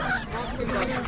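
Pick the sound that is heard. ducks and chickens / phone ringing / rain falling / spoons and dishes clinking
ducks and chickens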